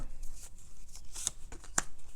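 Oracle cards being shuffled by hand during a reading, a few soft papery riffles with two brief sharp snaps standing out, close and fairly quiet with no talking.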